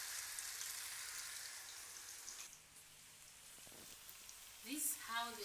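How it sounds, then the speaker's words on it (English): Potatoes frying in hot oil at home give a steady, dense sizzle and crackle throughout, with a brief scraping or stirring sound near the end. "this is how they are when you are frying them"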